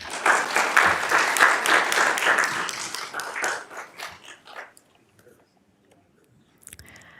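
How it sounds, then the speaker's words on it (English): Audience applause at a school board meeting, a burst of fairly close clapping that fades out over a few seconds to near silence, followed by a faint rustle. "Let's give them a round of applause."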